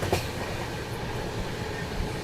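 An express train on the Marudhar Express journey, at a crossing with the Visakhapatnam–Bhagat Ki Kothi Express, rumbles past with a steady, dense rolling roar and rail clatter for a couple of seconds, without any voices.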